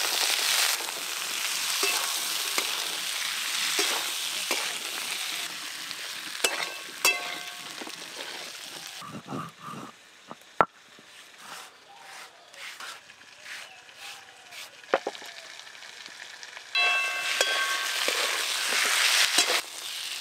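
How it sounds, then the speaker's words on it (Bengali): Potatoes and peas frying with spices in a pan, a steady close sizzle with intermittent stirring scrapes, quieter in the middle stretch before the frying swells again. "আলু আর মটর এই যে খুব ভালো করে কষে নিয়েছি মশলার সাথে।"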